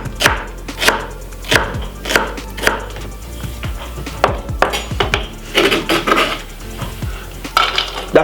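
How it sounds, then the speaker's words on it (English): A knife chops spring onion on a wooden board in a steady run of crisp, close thuds, roughly two per second, with a few softer scrapes between, and no talk. "I have some spring onion, which I'm going to be cutting up."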